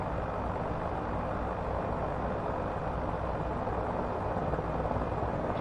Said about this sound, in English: This helicopter is quiet